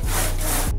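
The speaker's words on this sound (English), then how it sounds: "Now we're gonna take the big saw and cut the last little bit at the center of the log." A big hand saw cuts through the center of a massive log, one continuous loud rasping stroke of wood sawing, close and alone.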